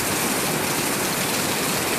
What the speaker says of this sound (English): Yay, much needed rain.